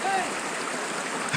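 A river flows steadily nearby in a wash of broadband rushing water, even and unbroken, with no voices over it.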